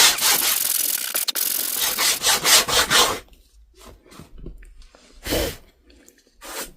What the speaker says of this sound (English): And you just sand until it falls away.